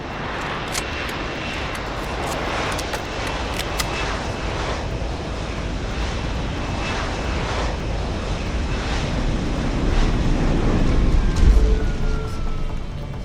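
Steady, roaring aircraft engine of a plane taking off in Deus Ex: Human Revolution, a continuous broadband drone with wind-like rush that swells louder toward the end, with no voices over it.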